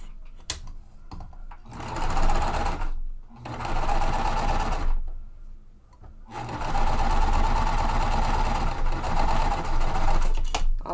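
Sewing machine stitching die-cut fabric pieces for a small lemonade quilt block, running in three bursts with short pauses between, close and fairly loud, with the final run the longest.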